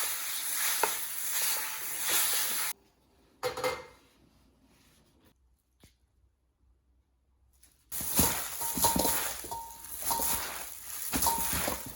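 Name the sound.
glass noodles frying in a pan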